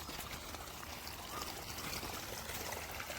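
Irrigation water runs steadily across farm fields, a continuous broadband rushing and trickling flow that stays even and close throughout with no voices.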